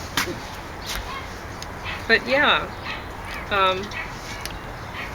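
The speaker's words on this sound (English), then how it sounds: "It sounds as though someone's crucifying the dogs there." Dogs barking and whimpering in distress in another room, muffled yelps and whines in short bursts heard behind a nearby speaker's voice.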